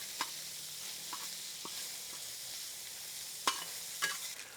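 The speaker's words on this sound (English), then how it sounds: "our andouille sausage has started to get a little caramelization on them" Andouille sausage browning on a recteq Matador griddle, a soft steady sizzle with a few sharp crackles and pops standing out, heard close and alone without talk.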